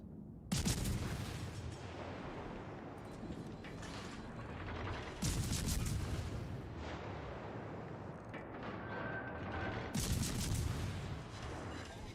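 A torpedo hit in the naval game World of Warships Legends sounds as heavy, rumbling booms with mechanical clanks, three strong impacts spaced several seconds apart over a continuous dense roar of battle noise.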